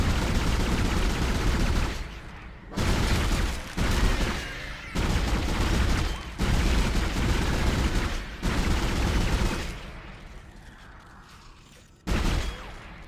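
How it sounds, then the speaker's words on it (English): Video game gunfire roars in long, loud bursts of rapid shots, broken by brief pauses, fading lower near the end before one more burst. "I will keep shooting you."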